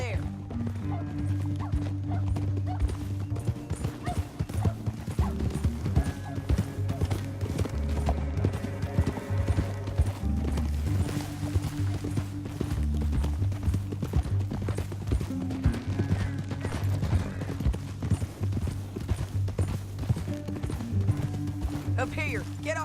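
Horses gallop in Red Dead Redemption 2, a steady loud drumming of hooves that runs the whole way through, mixed with game music and character dialogue.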